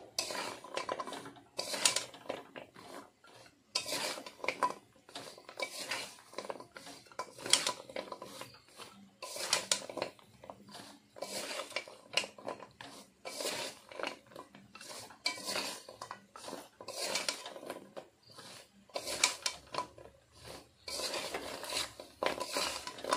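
Kathi goja sweets being stirred in a metal pan with the gas just turned off, repeated scraping and clinking of a utensil against the pan in an irregular rhythm, close and clear with no talking.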